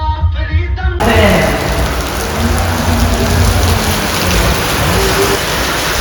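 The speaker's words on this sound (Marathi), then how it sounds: "पाऊस सॉलिड आहे आणि आम्हाला पाऊस मिळाला आहे" Heavy rain pours steadily as a dense, loud hiss of drops hitting surfaces, filling the whole stretch without letting up, after a brief opening moment of other sound.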